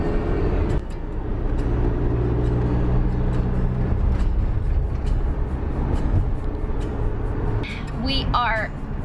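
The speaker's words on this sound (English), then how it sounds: "We are driving the van." A Sprinter van driving on the road, its steady engine and road rumble continuing throughout, with people talking over it from inside and a brief higher-pitched squeal near the end.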